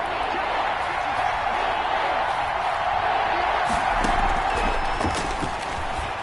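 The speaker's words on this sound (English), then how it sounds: "the crowd getting into it as we come up on a big 3rd down" Steady roar of a stadium crowd in a PS4 American football video game, building ahead of a big third down, continuous and loud throughout with faint scattered claps and cheers.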